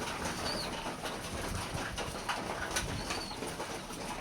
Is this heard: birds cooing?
yes